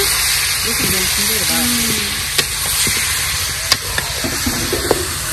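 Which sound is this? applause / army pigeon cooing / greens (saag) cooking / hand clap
greens (saag) cooking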